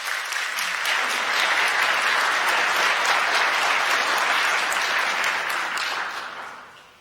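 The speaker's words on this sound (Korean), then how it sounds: "여러분들 환영의 박수 부탁드리겠습니다." A church congregation at a Sunday worship service applauds in welcome, a full, even burst of clapping that swells quickly, holds steady for several seconds, then fades away at the end.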